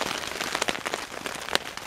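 Steady rain patters on a tarp pitched as a half-pyramid shelter during a storm, a dense close hiss broken by irregular louder drops, with no voices.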